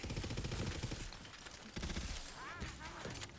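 Submachine gun fire in the looter-shooter Tiny Tina's Wonderlands, rapid rattling bursts that come in quick stretches, moderately loud, mixed with whooshing game effects near the end.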